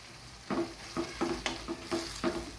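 Tempering of turmeric and red chilli powder in a pan for masala dal khichdi, sizzling steadily with a spoon stirring and clinking in short repeated strokes, close and moderately loud, with no talking.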